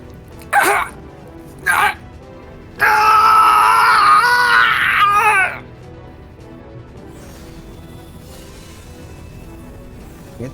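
A character screams in the Fate/Stay Night Heaven's Feel visual novel, with two short sharp cries and then a long, loud, wavering scream of about three seconds. Quiet background follows.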